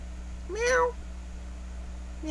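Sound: cat meowing

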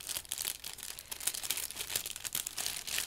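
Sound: sealed plastic packet being opened

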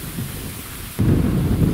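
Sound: strong wind

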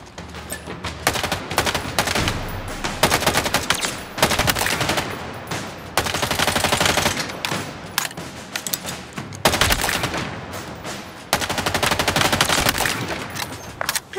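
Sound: weapon firing live rounds in the video game Halo Infinite

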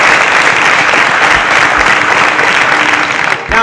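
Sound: studio audience applause for contestants leaving the stage

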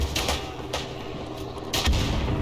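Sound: gunfire in a World War I video game

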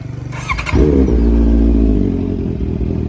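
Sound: Honda CB650F motorcycle engine running

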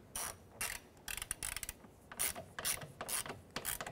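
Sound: ratchet tightening mirror nuts on Chevrolet Impala

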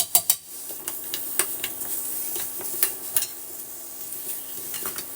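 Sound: jaggery melting and being stirred in a pan

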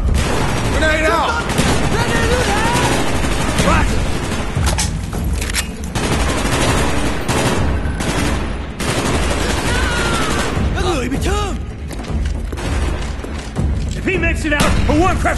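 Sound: grenade and gunfire in video game Call of Duty Black Ops

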